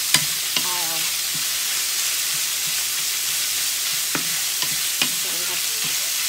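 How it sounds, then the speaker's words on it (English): Ground pork frying in a pan, a continuous loud sizzle with a few scraping stirs and light knocks scattered across it, no talking. "So I put first the ground pork"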